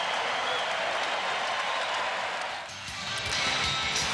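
A home crowd applauds at Market Square Arena during the Pacers vs Bulls Eastern Finals Game 6. The clapping is steady and loud, dips briefly, then swells again.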